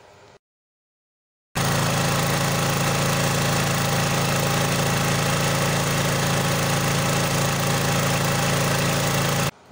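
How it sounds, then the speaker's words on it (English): A generator engine runs steadily and loudly at a constant speed while its speed screw is adjusted, starting after a short silence and droning evenly throughout with a strong low hum. "Turning the screw clockwise direction simply means you are increasing the speed and the voltage of the generator."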